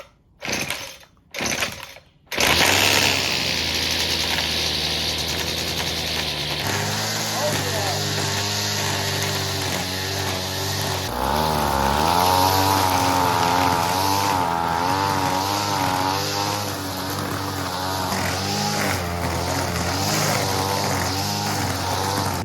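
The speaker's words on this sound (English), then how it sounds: "Nice, now we can get some weed eating done." A gas string trimmer runs loud and close for a long stretch after a few brief starting bursts, its engine note steady and then rising and wavering as it revs while cutting grass around a trailer.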